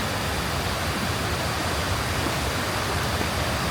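Steady, dense rush of falling water at Kuang Si Waterfall in a Laos rainforest, loud and continuous with no breaks, like standing close to the falls.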